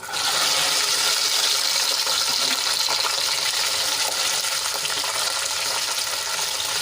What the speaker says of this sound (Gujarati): હવે આ તેલમાં આપણે ગુંદાને ફ્રાય કરી લઈશું